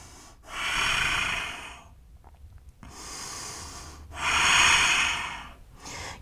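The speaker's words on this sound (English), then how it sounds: "2 more deep breaths." Slow, deep breaths during a yoga class, two long loud exhalations with softer inhales between, close and alone.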